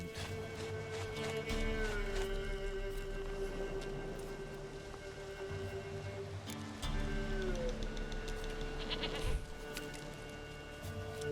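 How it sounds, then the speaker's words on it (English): A goat in The Witcher 3 bleats repeatedly over steady game ambience with a sustained tonal drone, its calls close and clearly audible throughout. "Got the doggone goat. Goat of mine, dearest, sweetest goat."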